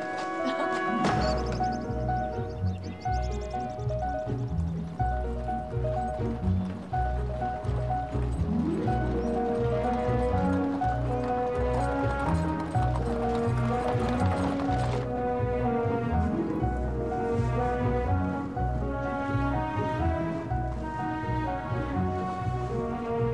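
Horse-drawn carriage with clip-clopping hooves, set in a period drama, heard as a steady rhythm under loud orchestral music that dominates throughout.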